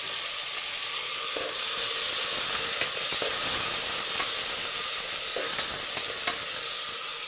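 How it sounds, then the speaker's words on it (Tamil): Onions and large tomatoes sautéing in a pan for a rice and lentil meal, giving a steady close sizzle and hiss with occasional stirring scrapes, no voices. "வெங்காயம் நல்லா வதங்கட்டும்."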